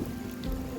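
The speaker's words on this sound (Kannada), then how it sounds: "ಮಳೆ ಕೂಡ ಬರ್ತಾ ಇದೆ" Rain falls steadily as a dense, even hiss with a low rumble beneath, heard outdoors at a college during a brief moment without talk.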